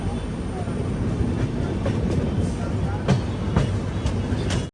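A train on an AC Express journey arriving at Surat station, with a steady rumbling roll and occasional rail clicks while it runs at close range. Faint talk is heard in the background.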